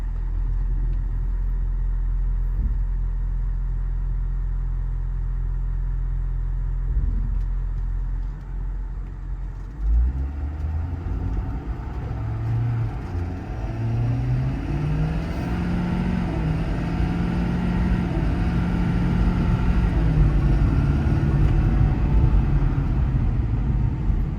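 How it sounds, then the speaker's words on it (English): A 2021 Ford F550 mechanics service truck with an extended cab pulls away on a short cul-de-sac run, its engine rumbling steadily and then rising in pitch through several upshifts, heard up close from the cab. "That was up into 8th gear just on that really short little cul-de-sac run."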